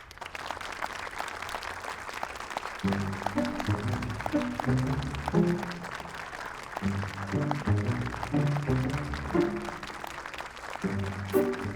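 Audience applause greets a vocal group on a Turkish stage show, starting thin and swelling into sustained clapping that runs throughout, with a strong rhythmic beat and musical tones joining in partway.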